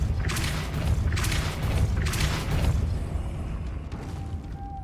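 A Depulso spell cast in Hogwarts Legacy, heard as three broad whooshing bursts over a steady low rumble of game ambience, fairly loud, with a faint tone near the end.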